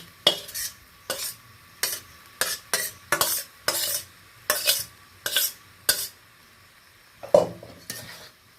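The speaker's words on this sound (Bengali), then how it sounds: "এটা ভালো করে ডিমটা এর সাথে মিশিয়ে নেব।" Fried egg is stirred into hand-mashed dal in a pot, a spoon scraping and clinking against the metal in short repeated strokes with brief pauses between, close and clear with no talk.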